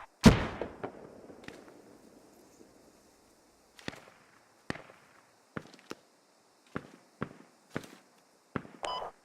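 Sharp gunshots in a military shooter game crack out one at a time, a heavy blast first and then single reports spaced a second or so apart, fairly close and loud, with no talk over them.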